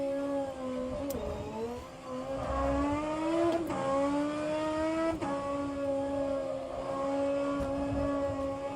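Race car engine in the rFactor 2 racing game holds a steady, loud droning whine, its pitch dipping and climbing again around gear changes, with no talk over it.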